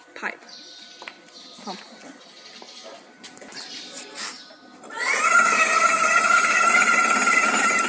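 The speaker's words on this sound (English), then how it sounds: "this is our tester for testing Caterpillar HUI C7 C9 pump" A Caterpillar HUI pump tester for C7 and C9 injection pumps starts up partway through, its steady broadband machine whine rising loudly after quiet handling noises and clicks.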